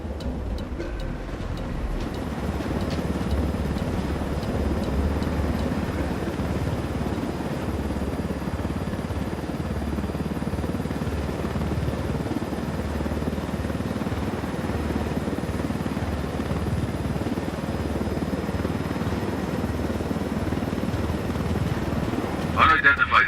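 Steady helicopter rotor and engine roar in a video game, flying low through a canyon, holding a constant loud drone throughout with little variation.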